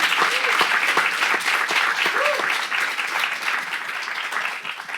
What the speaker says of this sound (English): So can we give them just a round of applause?